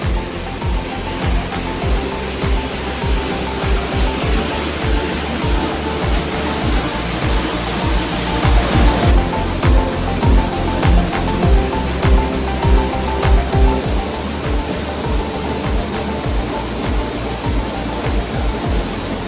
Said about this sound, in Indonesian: Saya mau memperlihatkan bagaimana keadaan sungai di sini